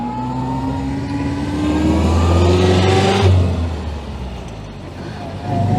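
A vintage 1925 Austin Seven car with no synchromesh, its small engine revving up with rising, whining pitch through the gears, loud and close, swelling to a peak before easing off as the driver double-clutches.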